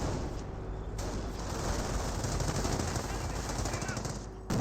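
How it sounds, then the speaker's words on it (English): Machine-gun fire from a Company of Heroes battle against riflemen, with a Sherman tank carrying a .50 cal on the field; fast steady rattling bursts fill the clip at moderate volume, with a short gap near the start. "Volks Grenadiers firing from heavy cover there, getting some good damage on the riflemen."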